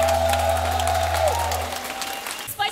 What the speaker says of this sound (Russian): Аплодируем еще раз громко.